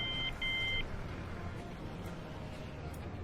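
Two short, bright electronic reversing beeps from a lorry in the Transport Fever game, the second one longer, followed by a low rumble of traffic ambience.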